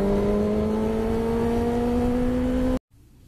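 A car surges away hard like it's racing, its engine note steady and rising slightly for almost three seconds before cutting off abruptly into near silence.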